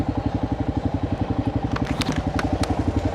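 A Royal Enfield Himalayan 450 motorcycle running with a misfire from an APS sensor failure, heard up close as a loud, steady pulsing engine beat with clattery, crackling irregular ticks and scrapes over it, with no talking.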